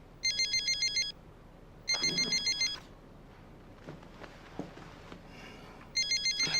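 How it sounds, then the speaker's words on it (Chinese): A mobile phone ringtone goes off during a business meeting, sounding as three bright, pulsing electronic bursts separated by quiet pauses with faint room noise, and no one speaks. "我接个电话啊。"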